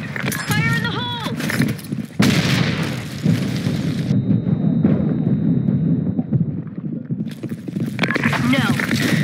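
A grenade blast in a video game lands as a loud, broad burst with a lingering rumbling tail, amid shouting voices over constant game noise.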